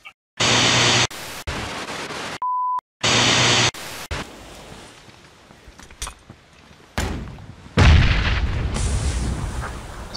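Bursts of gunfire and explosions from a battle royale shooter video game, with loud blocky volleys, sharp cracks and rumbling blasts alternating with quieter gaps and a brief tone.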